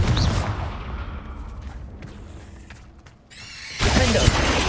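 A Confringo fire spell blasts in Hogwarts Legacy: a heavy burst of booming impact and crackle, a quieter rumbling stretch, then a second loud fiery explosion near the end.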